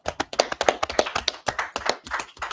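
Congregation clapping at a Sabbath service in Atlanta, a dense, fast run of overlapping handclaps that sounds close and lively, with no talking over it.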